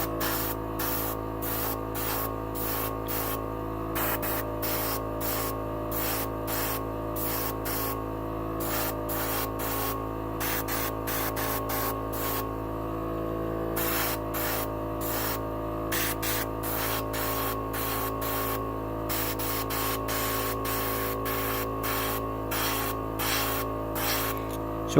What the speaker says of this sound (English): I just continue using this airbrush since this is the airbrush I started doing the videos with.